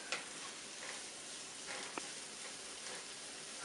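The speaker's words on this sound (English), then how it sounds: "And you must continue to stir it up." Onions stirred in a frying pan while cooking soup, a faint steady sizzle with occasional soft scrapes and clinks of the spoon, heard quietly without speech.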